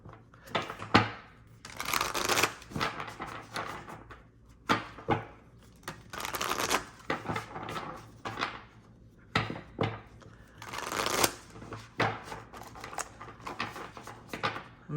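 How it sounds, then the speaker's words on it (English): Tarot-style Akashic Record cards being shuffled by hand, with repeated soft riffling and rubbing bursts of card stock, close and fairly quiet, with no talk. "what cards do they want me to grab for? Oh, we're going to do the Akashic Record cards."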